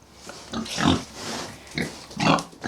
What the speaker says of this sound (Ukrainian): звичайні наші хрюшки українські.